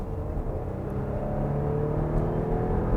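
A 2019 Porsche Cayenne SUV in sport mode speeds up from inside the cabin, a low, steady engine drone and road rumble building slightly, with no voices.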